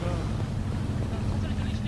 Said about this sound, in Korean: 차 소리 들리시죠?